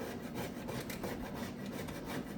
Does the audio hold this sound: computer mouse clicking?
no